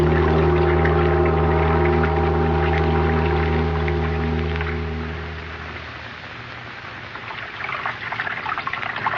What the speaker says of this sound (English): Sound of water so loud.